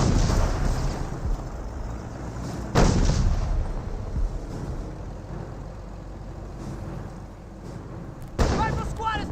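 Nebelwerfer rocket artillery fires in a Company of Heroes battle, two heavy booming blasts spaced several seconds apart over a rumbling battlefield din, with a voice talking throughout.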